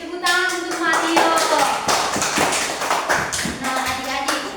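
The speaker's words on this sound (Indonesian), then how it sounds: "Oke, tepuk tangan untuk Mario" Children in a classroom clap for a classmate named Mario during a maths teaching session: a burst of brisk, uneven hand claps, close and fairly loud, with a voice and chatter mixed in.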